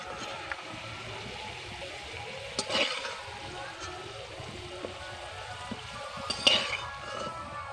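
Fried potatoes being lifted from hot oil in a pan, a soft steady sizzle with a few scraping clinks of a utensil against the pan, heard close and fairly quiet.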